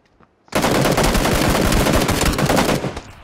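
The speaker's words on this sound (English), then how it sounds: "There's still people shooting out in the blue." Sustained automatic gunfire in PlayerUnknown's Battlegrounds bursts in after a brief quiet moment, a loud rapid stream of shots lasting a few seconds before tapering off, with no talking.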